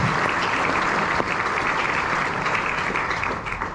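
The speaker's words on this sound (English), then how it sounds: "Round of applause for Coley." A theatre audience claps steadily for a West Ham legend at the Adelphi Theatre, a dense, sustained wash of applause from a large crowd with no break.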